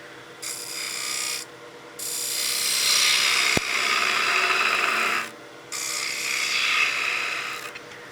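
A spindle gouge rides the bevel along a spinning wooden gnome hat on a lathe, giving a steady hissing, rasping cut in long sustained bursts separated by brief pauses, close and fairly loud, with no talk.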